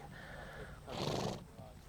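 Feral horses in Nova Scotia neighing: a long whinny rises loudly near the middle, with fainter horse calls before and after against an outdoor background.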